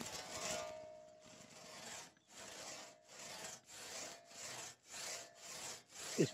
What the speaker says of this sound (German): Den Stamm wollen sie in etwa 3 Meter lange Stücke schneiden.